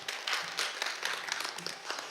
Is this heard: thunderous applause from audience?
yes